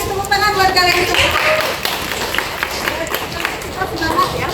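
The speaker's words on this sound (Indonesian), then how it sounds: "Terima kasih, tepuk tangan buat kalian semua." Schoolchildren clap together in a classroom, a burst of quick close handclaps mixed with chatter and young voices, loud at first then settling into scattered claps and talk.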